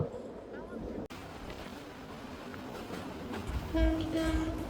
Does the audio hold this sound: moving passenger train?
yes